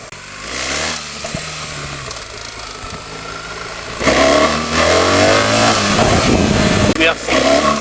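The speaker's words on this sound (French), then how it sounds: "Ah, ce doux bruit de chaîne qui m'enchante." A BMW GS 1300 motorcycle on the move, its engine droning and then rising in revs with a whirring chain, loud and close, with wind rush in the background.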